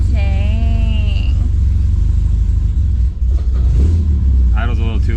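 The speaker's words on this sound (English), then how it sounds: "Idle's a little too low, so I gotta hold my foot on it." An MGB that sat unused for 10 years runs with a low, steady engine rumble and a slightly low idle, while people talk loudly over it.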